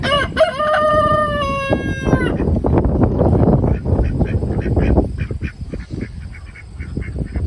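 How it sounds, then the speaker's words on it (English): Loud rooster crowing at the start, followed by ducks and geese quacking and honking in a noisy, busy flurry nearby on a farm, with ducks chasing each other. "A couple ducks are chasing after each other right there."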